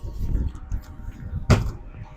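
Rear ramp door on a Liberté Gold3 horse van opened, heard as a sharp metallic clunk near the end over steady background rumble and muffled movement.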